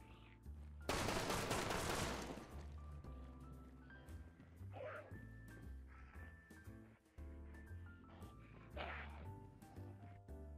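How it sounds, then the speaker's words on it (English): Revolver fanning in the Hunt: Showdown video game, a burst of rapid gunfire up front followed by scattered shots and game effects over a sustained low musical drone. "we have another deadly fanning in our hands"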